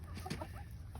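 Hens clucking softly while eating treats in a farm chicken yard, low continuous murmur of fowl with a few brief calls, fairly close and steady throughout.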